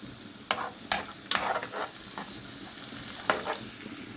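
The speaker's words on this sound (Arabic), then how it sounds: "اول ما تدبل كده هنزل بالتومه بتاعتي كده بالشكل اللي احنا شايفينه ده، برضو هشوح التومه معايا." Chopped onion and garlic sauté in a hot pan for an okra and meat dish, with a soft continuous sizzle and several sharp scraping strokes of a spoon stirring, no voices.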